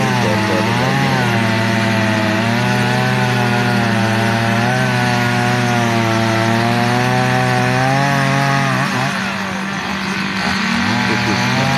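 Chainsaw cutting through wood at a timber show, the engine running loud and continuous with its pitch sagging and rising as the chain bites into the log.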